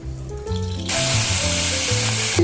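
Oil poured into a hot pan for sizzling tuna erupts into a loud, steady, close sizzle after a quieter start, with a faint musical tone underneath.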